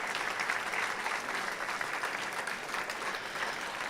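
Audience applause welcoming guests to the stage at a Tamil literary event on Bharathi, steady dense clapping from a large crowd filling the whole moment without pause.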